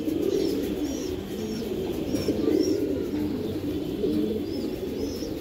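Brown-necked racing pigeons, a pair, coo in a continuous low throaty rumble nearby, with a few thin higher chirps from other birds scattered through the background.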